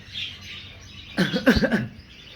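Cockatiels chirp in an indoor breeding room, with a short burst of several close, bright calls after a quiet stretch of faint background chirping.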